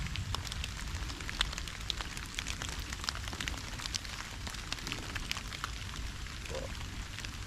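Steady rain falls outdoors near a small flooding pond, a continuous dense patter with scattered sharper drops throughout, fairly close and without talk.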